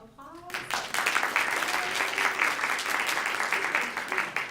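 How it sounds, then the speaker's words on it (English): An audience at a creativity talk applauds a speaker. The applause starts abruptly after a short pause and holds as a steady, moderately loud wash of many hands clapping. "Let's give Dee Dee a round of applause."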